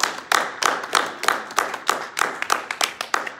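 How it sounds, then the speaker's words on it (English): A youth Sunday church congregation claps hands in a quick, evenly spaced rhythm, about a dozen sharp, loud unison claps close by with no talk over them. "Clap your hands for victory"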